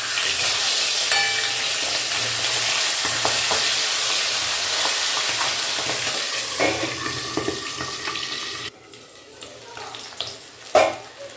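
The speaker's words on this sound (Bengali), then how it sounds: "ঢাকনা সরিয়ে উল্টো দিকটা ভেজে নিচ্ছি।" Fish frying in oil in an uncovered pan, a loud continuous sizzle with bursts of spatter and occasional scraping as the pieces are turned.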